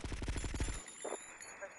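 Rapid automatic gunfire in a Grand Theft Auto mission, a quick fast burst of shots that cuts off into quieter ambience with a faint brief sound after.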